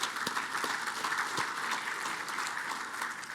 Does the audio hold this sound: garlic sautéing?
no